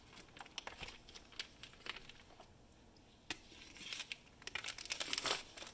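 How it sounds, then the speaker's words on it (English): Plastic packaging being crinkled and peeled off a thawed whole turkey bought at a grocery store, with sharp crackling rustles that come in bursts and build louder toward the end. "So you're just going to unwrap your bird."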